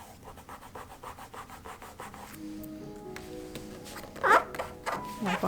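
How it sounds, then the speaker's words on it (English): Cloth rubbing across a book cover during a rebind to wipe away excess glue, a series of soft repeated swipes close by, ending in a few louder scraping strokes. "Wipe off some extra glue."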